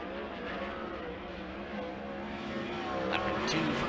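A 410 winged sprint car on a hot lap gives a loud, high-pitched engine howl that holds steady and grows slightly louder as it races past.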